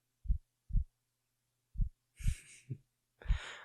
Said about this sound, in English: You can hear my heartbeat, can't you?